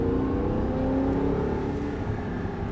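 An Audi R8 V8 engine drones steadily under acceleration, a continuous smooth low hum with a faint rising tone, heard from inside the car.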